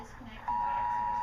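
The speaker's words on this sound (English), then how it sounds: "There's an alert on my phone" Phone emergency alert tone for a flash flood warning, a steady piercing beep that starts abruptly and holds, with a voice talking underneath.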